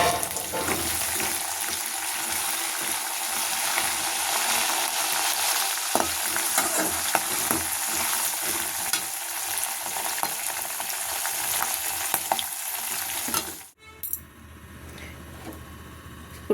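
Spices frying in hot oil for a sambar tempering, a loud steady sizzle with light stirring that runs for most of the time, then drops off sharply near the end.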